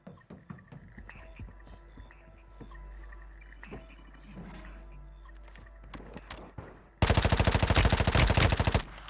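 Gunfire in Warzone Mobile: faint scattered game sounds and distant shots give way near the end to a loud, close burst of rapid automatic fire lasting about two seconds.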